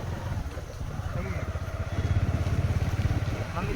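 A scooter engine idles and revs steadily close by, its low rumble building louder toward the end, with voices faintly mixed in.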